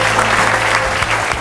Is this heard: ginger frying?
no